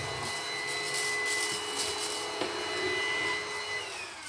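A cordless stick vacuum cleaner fitted with a brush attachment runs steadily as it sucks cobwebs from a corner, a close, continuous whine with a slight shift in pitch partway through.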